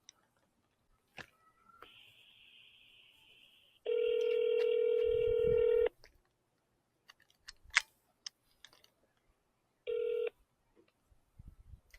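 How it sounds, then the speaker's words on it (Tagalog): A phone call rings out unanswered, with a steady ringback tone sounding in two or three separate bursts between quiet gaps, clear and close with no voices over it. "Tawagan natin. Hindi sumasagot."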